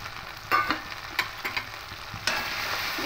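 Ground turmeric, coriander and Kashmiri red chilli powder are stirred into hot oil for mung dal with katla fish head: a close sizzling hiss punctuated by several sharp spoon scrapes, without any voice.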